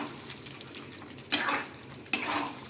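Hot water splashes into a pan of chicken curry in two short, close pours, each a bright rush that tails off quickly against a quiet kitchen background.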